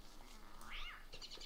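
A cat meows in the video game Don't Starve: Reign of Giants, one rising and falling cry mid-clip over faint background game ambience, with a couple of softer chirps after.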